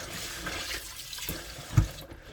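Glutinous rice is washed gently by hand in water for traditional makgeolli, giving soft close sloshing and swishing with a small splash near the end.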